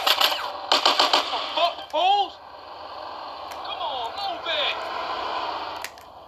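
Gunfire in GTA San Andreas on Android: several quick bursts of shots near the start, then game sounds and chatter while someone talks over it.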